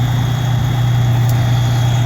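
Fire truck engine idling on scene at a fire alarm call, a loud, steady low diesel rumble with a constant hum and no variation throughout.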